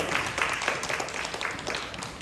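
A round of applause for the Rebels team at an elementary school student speech event in Arcadia, Los Angeles: a short burst of steady, dense clapping from a crowd, moderately loud and continuous throughout.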